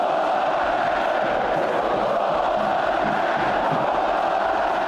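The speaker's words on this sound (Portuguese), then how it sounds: "Das arquibancadas, agora com resquícios da festa alviverde, saíram até gritos de..." Palmeiras supporters in the stadium stands roar and chant together in a dense, loud, sustained crowd noise that does not break for the whole stretch.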